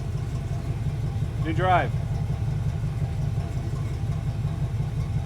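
An abandoned Pontiac idles steadily after its first start in 40 years, a close, even low rumble that runs the whole time while a voice speaks briefly over it.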